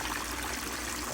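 Short, close rush of water squirted into a gold concentrate bucket to rinse it clean, a steady hissing splash with no talk.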